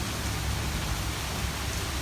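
Rain falls steadily in Florida, a dense, even hiss of drops on surfaces that fills the whole short stretch with no variation and no voices.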